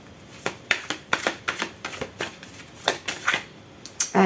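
Tarot cards being shuffled by hand for a nine-card spread: a close, steady series of crisp flicking and slapping bursts, roughly two or three per second, with no talk over them.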